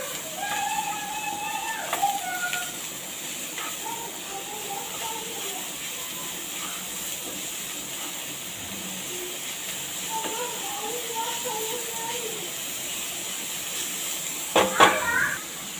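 Onions and mixed vegetables sautéing in oil in a pan for a Tamil chapati egg roll, a steady low hiss throughout with a few louder sizzles near the end and faint speech in the background.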